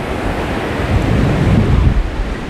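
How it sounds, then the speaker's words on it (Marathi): Sea waves at Nagaon beach roll in as a steady, broad wash of surf mixed with wind rumble, continuous and fairly loud throughout with no voices. "हे पाठी पूर्ण समुद्र आहे आणि समुद्र बघू शकता"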